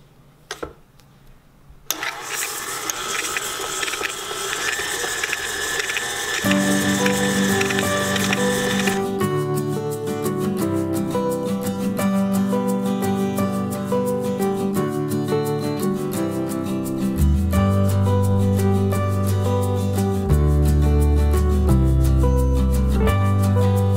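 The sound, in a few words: electric mixer creaming butter and sugar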